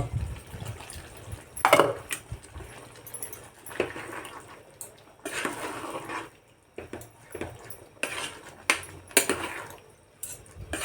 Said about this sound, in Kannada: ಚೂರು ನೀರು ಹಾಕ್ತೀವಿ.